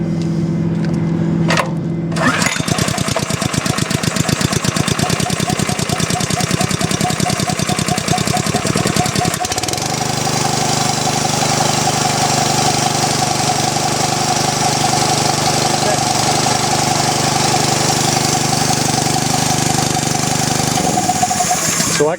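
An ASD2800 heat lance motor cranks, catches and starts, then runs with a loud steady knocking engine rumble that settles into an even idle, which drops at the very end.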